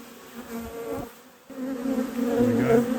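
Honey bees buzz steadily inside an opened hive holding brood, larvae and a new queen, a close, continuous drone that swells slightly toward the end with no talking.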